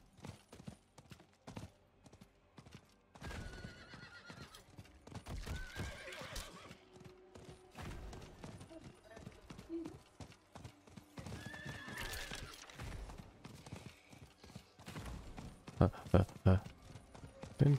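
A horse in the Diablo IV video game gallops with steady clip-clopping hooves and neighs loudly several times, with a person talking over the game sound.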